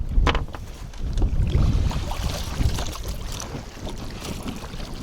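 Wind gusting over open water around a small fishing boat on the Yauza river, a steady loud rumble with buffeting bursts against the microphone and faint water movement, no voices.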